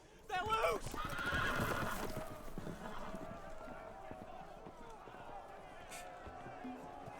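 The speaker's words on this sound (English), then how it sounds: "The horses! They're loose!" Loose horses neighing and whinnying with galloping hooves in a Telltale Game of Thrones video game, loud and busy at first and then fading under a steady backdrop.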